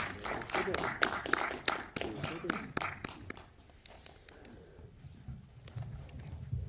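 Audience applause at a movie preview screening at CGV Gwangju Sangmu, a burst of claps with some voices that tapers off into quieter room noise.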